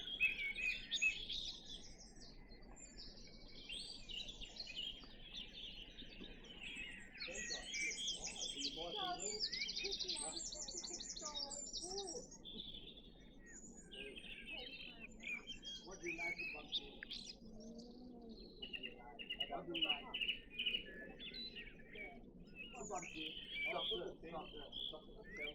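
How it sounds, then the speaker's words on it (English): Birdsong beside a waterway, with several birds chirping and trilling steadily close by over a low ambient hum, while a person talks quietly throughout. "I'm enjoying just sitting here listening to the bird song."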